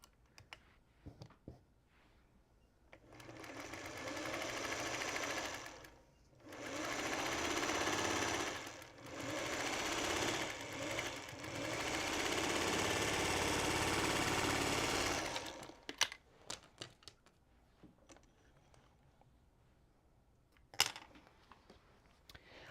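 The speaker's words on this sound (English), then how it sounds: "We're just going to sew them together. So I'm going to sew this to that sashing." A sewing machine stitches a quilt block to sashing for a jelly roll quilt, running in several loud, steady buzzing bursts with short pauses between, bracketed by quiet handling clicks before and after.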